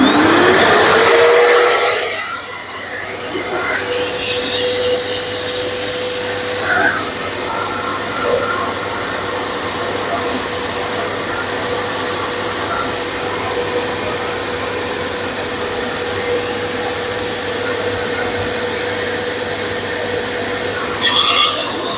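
A Parkside wet and dry vacuum runs with only the hose fitted, giving a loud, steady whine and whooshing roar that winds up at the start, then holds evenly at close range for the rest of the clip.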